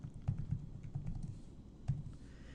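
Keys clatter on a computer keyboard during network router configuration, a close, quiet run of uneven taps with a few harder strikes.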